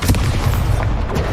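Incendio fire spell cast in Hogwarts Legacy: a short, dense burst of booming, crackling game-effect impacts, loud and close, with no voice over it.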